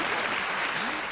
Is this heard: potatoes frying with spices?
no